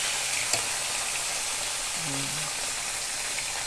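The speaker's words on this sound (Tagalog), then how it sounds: "Yan ang ating lulutuin. Crispy fry na fish." Fish fry in hot oil with a dense, steady sizzle and crackle throughout, with a faint voice briefly audible beneath.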